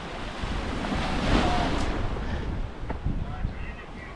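Sea waves washing against a rocky shore at Playa Blanca, Lanzarote, a steady broadband surf wash with gusts of wind noise on the microphone, near and fairly loud throughout.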